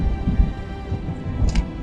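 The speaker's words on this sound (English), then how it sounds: "I think there's a storm coming in." Thunder rumbling through a storm with rain falling, low rolling rumbles under a steady faint patter outdoors during a road trip, no talk.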